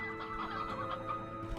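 Chickens cluck in the video game Slime Rancher 2, a busy overlapping chorus of short clucks over a steady droning game background, moderately loud and without speech.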